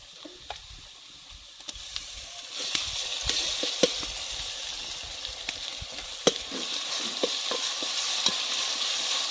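Homemade ground masala paste for a Kolhapuri-style goat trotter bhaji fries in a pan with a steady close sizzle, broken by sharp clicks and taps as it is stirred, and no voices.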